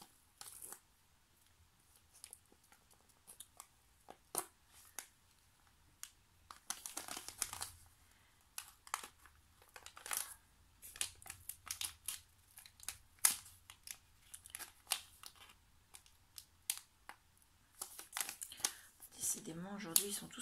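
A plastic sachet of scrapbooking items from an advent calendar being opened, with sporadic crinkling, tearing and rustling bursts that are fairly close and quiet. The crinkling is louder toward the end.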